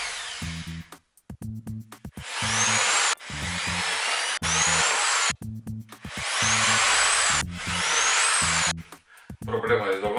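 A power drill bores into tubing in repeated bursts of about a second each, loud and close, with brief pauses and a low motor hum between them.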